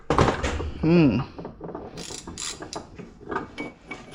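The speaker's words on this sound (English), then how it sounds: "I have to go over to the other drawer for a ratchet" A gear drive ratchet clicks and whirs among irregular metallic clunks and handling noises in a workshop, close by, with a brief rising mechanical whine.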